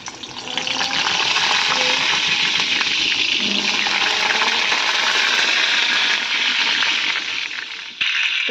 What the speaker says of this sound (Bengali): এদিকে তেল গরম করতে কড়াতে কিন্তু বসিয়েই দিয়েছি